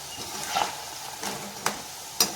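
Plantain pieces fry in oil in a pan, a soft background sizzle broken by a few sharp scraping knocks of a ladle, close and brief.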